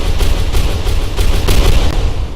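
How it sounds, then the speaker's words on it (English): Bomb explosions in the Trenchfoot video game, a loud, dense series of rapid booming bursts and crackles that continue steadily from start to end, with no speech over them. "the explosions do stick around for a little bit"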